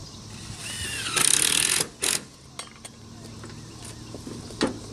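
A power driver runs in a short burst as it fastens a pancake-head screw into standing seam metal roof panels laid over shingles, followed by a few sharp metallic clicks and knocks, close by, with no talking.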